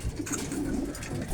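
Racing pigeons cooing softly inside a small loft, a steady low murmur of overlapping coos from several birds close by, with no talking.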